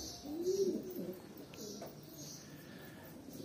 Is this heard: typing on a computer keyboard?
no